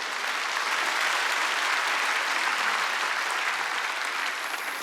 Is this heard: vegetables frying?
no